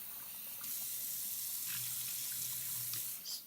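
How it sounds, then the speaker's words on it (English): Soaked lentils rinsed under a running kitchen tap make a steady soft hiss of flowing water, with slight splashing changes as the stream hits the lentils, faint and close. "Rinse them again before cooking."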